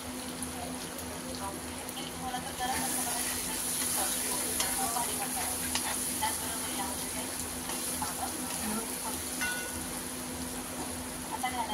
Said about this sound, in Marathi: या गोष्टी परतून घेत आहे पहिले.